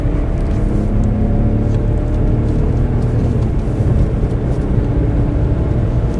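A used BMW 7 Series on a high-speed test drive produces a loud, steady roar of engine and road noise inside the cabin, with no talking.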